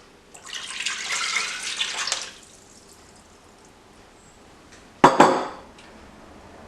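Coconut milk poured into a cooking pot for khao soi, a soft liquid splashing pour lasting under two seconds, followed later by a brief sharper splash and clink against the pot.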